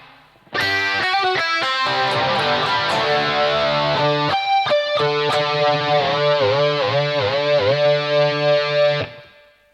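Distorted electric guitar plays a continuous lead line from a live solo, with sustained bent notes and quick articulated runs, loud and alone for about nine seconds.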